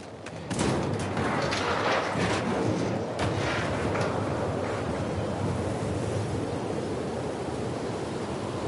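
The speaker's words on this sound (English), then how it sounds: "It's pretty windy." Strong wind blowing in The Last of Us Part II, a loud continuous roaring gust that swells at the start and then holds steady, with no talk over it.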